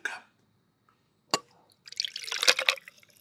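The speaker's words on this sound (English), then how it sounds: "you heard that pour?" A drink is poured into a cup in short, close bursts of splashing and trickling liquid after a sharp tap, with a brief voice at the start and otherwise quiet surroundings.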